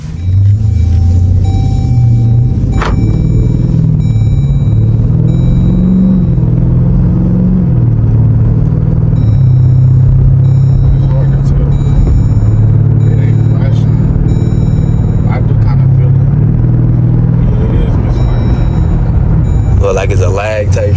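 A Dodge SRT engine with a cylinder 6 misfire idles with a loud, uneven, gargling rumble that runs steadily throughout, with people talking over it.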